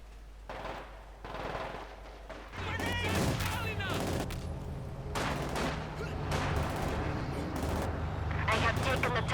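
Company of Heroes 2 battle audio: rapid machine-gun bursts and booming mortar and Katyusha artillery impacts, dense and continuous, with a commentator talking over the fighting.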